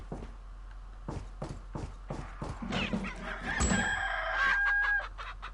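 Chickens cluck and a rooster crows in the Resident Evil 4 video game, with rapid clucks building into a loud, drawn-out crow near the end, no speech.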